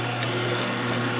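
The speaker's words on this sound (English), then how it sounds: "I'm just going to pour a little bit of this back in there" Mint juice poured back into a running juicer while making a minty lime juice: a steady, close whirring hum with a continuous watery wash and no talking.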